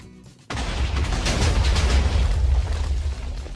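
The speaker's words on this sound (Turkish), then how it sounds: "Of ama patladı ha" In Minecraft, after a brief quiet moment, a sudden loud explosion bursts out and rolls into a sustained, deep rumbling roar that lasts several seconds.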